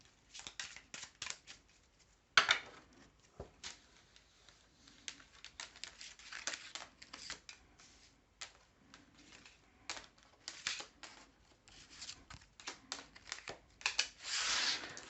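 A deck of oracle cards being shuffled by hand, giving quiet, irregular bursts of flicking and riffling, with a louder, longer riffle at the end.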